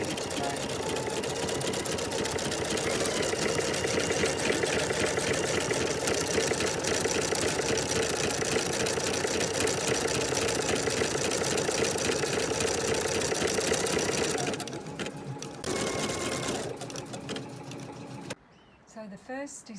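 An embroidery machine stitches cross-hatching in gold thread with a fast, steady, close mechanical whirring hum that runs unbroken for about fifteen seconds before slowing, stopping briefly and falling quiet.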